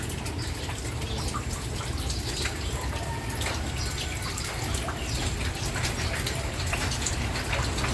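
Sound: rain

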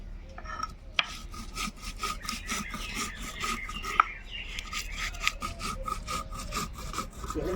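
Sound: grinding cumin, green chilli, mustard and ginger into paste

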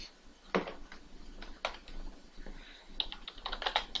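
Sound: typing code on a computer keyboard

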